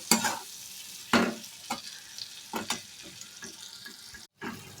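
A spice masala with cumin and chili powder being sautéed in a pan sizzles steadily, broken by repeated stirring scrapes and clatters at an irregular rhythm, with one brief drop to near silence.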